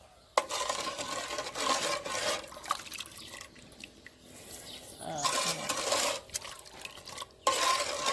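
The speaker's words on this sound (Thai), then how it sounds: "เราก็นะครับเคี่ยวไฟอ่อนๆนะครับ อย่าให้ กะทิแตกมันนะครับค่อยๆคน" Coconut milk simmering over low heat with pandan and sugar, slowly stirred: soft continuous scraping and liquid swishing in a pot, fairly quiet and steady, with occasional light clinks.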